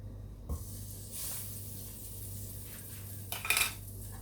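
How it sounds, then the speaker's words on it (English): Butter goes into a preheated pan and gives a soft sizzling hiss with a brief clink of metal, quiet and close, with no talking. "So I've preheated the pan, and in with the butter"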